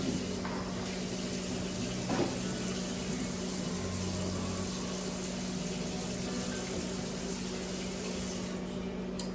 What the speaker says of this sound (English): Pour water in with it.